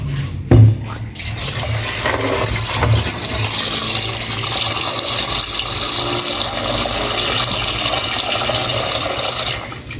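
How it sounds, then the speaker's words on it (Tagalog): Water poured from a container into a hot pan of sautéed onions, a brief knock and then a continuous rushing splash and bubbling that runs steadily for several seconds. "Lalagyan ko na ng tubig."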